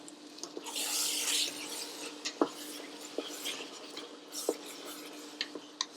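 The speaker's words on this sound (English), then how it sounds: "Stir that in nicely." Yoghurt, coriander and salt being stirred into a mix with a spoon: soft wet rubbing and scraping, with scattered light clicks of the spoon against the bowl, quiet and close.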